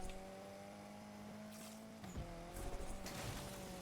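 Car drifting through a drift zone in the racing game Need for Speed Unbound, a steady engine drone with rising tire squeal and skidding bursts toward the end, loud and continuous with no voices.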